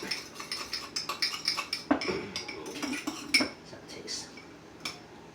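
A utensil scrapes and clinks against a pan while burgers seasoned with onion powder are stirred, giving an irregular run of light metallic taps and chinks at close range, with no talking.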